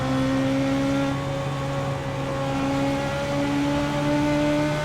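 A Legends race car engine on track at USA International Speedway accelerating up through the gears, a loud steady droning roar with rising harmonic whine, alone without voices.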